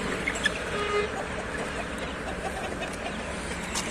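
Crested chickens clucking amid a steady outdoor background, with a few short calls standing out early on.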